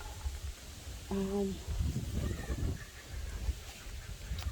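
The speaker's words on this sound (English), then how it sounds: "What is wrong with these chickens? They need to stop." Chickens cluck and squawk in a short burst in a garden, fairly close, with some background noise around them.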